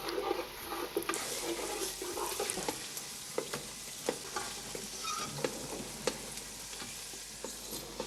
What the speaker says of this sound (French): Alors, on laisse bouillir légèrement cette crème.